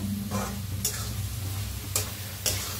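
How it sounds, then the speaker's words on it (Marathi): Chopped dill greens cooking in a pan under a soft continuous sizzle, with a few distinct scraping stirs of a spoon against the metal. "आता छान भाजीला मिक्स करून घेऊया"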